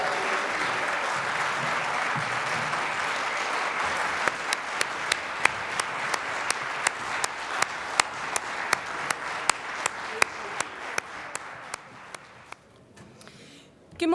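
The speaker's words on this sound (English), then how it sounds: "please give a warm round of applause again for our Coalburn Bronze Band" An audience at the Scottish Festival of Brass applauds the youth Coalburn Bronze Band. A full wash of clapping thins into a few sharp, distinct claps and then fades out.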